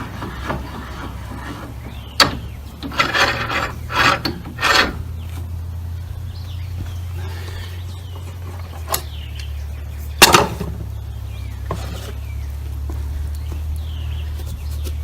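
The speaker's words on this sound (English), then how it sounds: "Pull the drill bit back out." A hand crank drill bit is drawn back out of a freshly drilled hole, giving rough rasping and scraping bursts, a cluster early on and one sharp burst later, over a low steady hum.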